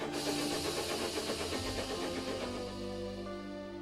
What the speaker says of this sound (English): That sounds like an engine, he thought.